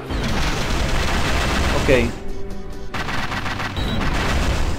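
Rapid gunfire from enemies in the action game Black Rock Shooter, a dense continuous barrage with a brief lull, loud and close, while someone briefly speaks.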